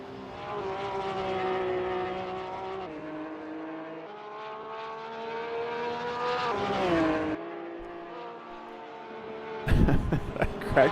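A Porsche Cup race car lapping Bikernieki Circuit in a racing game, its engine droning steadily with rising and falling pitch as it shifts gears, ending in a harsher, louder burst of noise.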